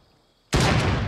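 Video game gunfire bursts in abruptly after near silence, a loud, dense volley of shots that keeps going to the end.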